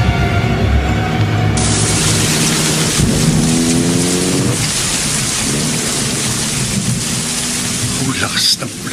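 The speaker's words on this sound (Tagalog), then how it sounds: "Lakas ng ulan." Heavy rain pounds down steadily during a thunderstorm at night, with rolling thunder rumbling underneath the dense, loud hiss of rainfall on surfaces throughout.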